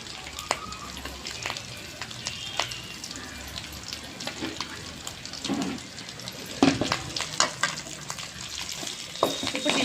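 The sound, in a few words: chicken with coriander frying in oil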